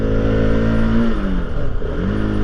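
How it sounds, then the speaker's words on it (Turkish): A Bajaj Pulsar RS200 motorcycle engine climbing a ramp drones loudly and closely, its pitch sagging and wavering mid-clip as the engine bogs after a downshift before steadying again, with no voices. "Bak hemen böyle bir vites düşürünce evet devri ayarlayamadığım için bir yığılma oldu."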